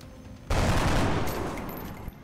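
A squad fires weapons in the XCOM: Enemy Within Long War mod, a sudden loud burst of rapid gunfire that starts abruptly, rattles on for about a second and a half, then cuts off sharply.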